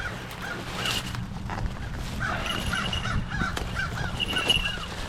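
A bird caws several times in a row, with harsh calls rising out of a busy outdoor background of rustling and low noise.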